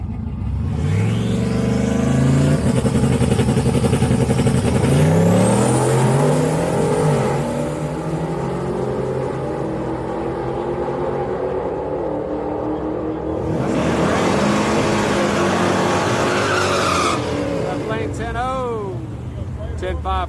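Drag racing cars, a Honda Civic and a Ford Mustang, roar loudly at a Houston Raceway Park street night, engines revving and sweeping past in long rising and falling passes, with people talking over the noise.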